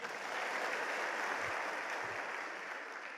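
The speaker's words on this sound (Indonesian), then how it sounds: "Tepuk tangannya pasti hebat, betul nggak?" Continuous crowd applause, dense and even, clapping steadily for a few seconds without letting up.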